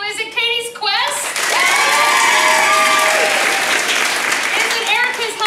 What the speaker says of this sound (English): Clapping for all of them, the loudest for the ones that you would like to continue.